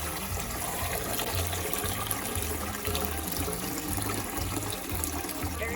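Chives are rinsed in cold water in a kitchen sink, a continuous running and splashing water sound with low rhythmic gurgles throughout, no voices.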